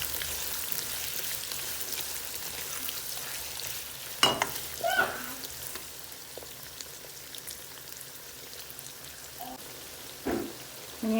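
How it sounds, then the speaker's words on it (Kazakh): Onions fry quietly in a pan for a chicken and vegetable dish, giving a soft, steady sizzle with a few louder stirring scrapes and clinks scattered throughout. "Пиязды да осылайынан қызарғанша қуырып аламыз."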